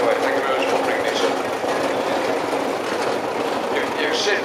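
A vintage Marshall Series 1 tractor built in Gainsborough, a 40 horsepower model, runs at a steady, loud, continuous chug at an outdoor steam and country rally, with a voice speaking faintly over it.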